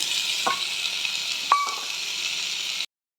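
Potatoes and onions frying in a pan make a continuous hissing sizzle with a couple of brief clinks, then it cuts off abruptly, with no talk.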